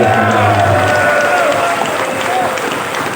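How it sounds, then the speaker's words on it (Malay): An audience in a hall applauds together, a dense steady patter of clapping mixed with crowd noise that tapers slightly toward the end, with voices audible beneath it. "Dewan Tepuk Tangan, Dewan Sokong"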